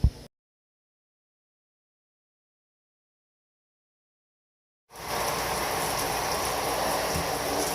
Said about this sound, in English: now we are rinsing